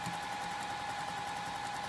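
A sewing machine stitching a gusset runs at a steady, quiet hum with a fast, even rhythm of light mechanical ticks and no pauses.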